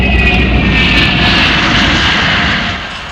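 A MiG-242 jet aircraft engine roars loud and close, a sustained, powerful drone with a high whine that holds steady before easing slightly at the end.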